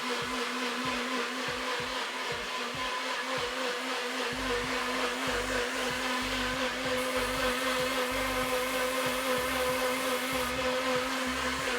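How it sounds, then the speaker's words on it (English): A closed blender purees lukewarm food continuously at high speed, a loud steady motor roar with churning texture throughout. "Nothing hot in a closed blender."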